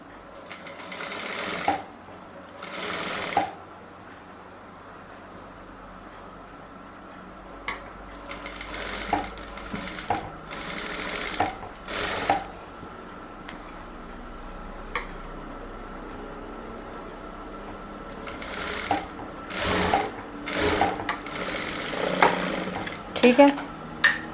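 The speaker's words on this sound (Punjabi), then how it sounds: "ਹੁਣ ਇਹਦੇ ਉੱਪਰ ਆਪਾਂ ਨਾਰਮਲੀ ਜਿਵੇਂ ਸਿਲਾਈ ਲਗਾਉਣੀ ਹੈ" A sewing machine stitches a cuff sleeve in short whirring bursts separated by pauses, running close and fairly loud with quieter handling sounds between runs.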